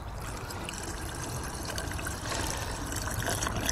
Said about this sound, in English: this is the windscreen washer bottle, which you can then top up